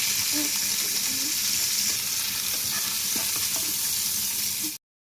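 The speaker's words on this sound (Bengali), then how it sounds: "তেলটা গরম হওয়ার পরে আমি জিরা ফোড়ন দিয়ে দিলাম, কাঁচামরিচ কুচি আর পেঁয়াজ কুচি দিয়ে দিলাম" Cumin seeds, chopped green chilli and onion with a little salt fry in hot oil, giving a steady close sizzle with faint scraping stirs, then cutting off abruptly.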